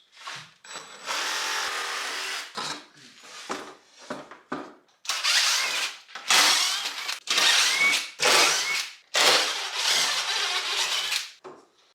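Power drill driving three screws into wood pieces clamped together for cutting, in loud repeated bursts of a second or so each with short pauses between, close by.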